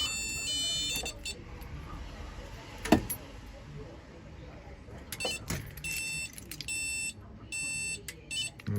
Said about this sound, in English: Beep again because it's still telling you that it's in test mode